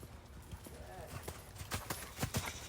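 A horse trots in a riding arena while on the bit, its hooves giving a quick, uneven series of soft clip-clop thuds. The hoofbeats are fairly faint beneath a trainer's spoken instructions.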